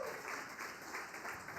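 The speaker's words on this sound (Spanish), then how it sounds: "Dele un aplauso fuerte al Señor," A church congregation gives a brief burst of applause to the Lord during a service, a soft, steady wash of clapping at a distance.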